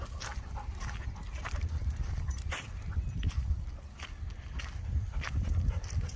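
Several dogs growl and whimper while telling off another dog that tries to jump on their backs, a close run of rough grumbles and thin whines with shuffling movement throughout.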